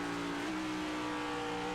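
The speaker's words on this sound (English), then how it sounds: "Actually, a downshift. You heard that." Onboard a stock car at the Miami 400 race, the engine drones steadily and its pitch dips briefly as the driver downshifts from fifth to fourth gear, then holds a sustained high whine.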